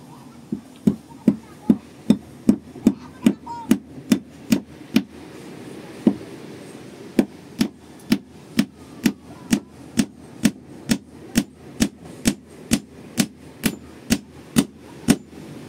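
A hammer strikes a nail into wood again and again, sharp regular blows in a steady rhythm with one short pause partway through.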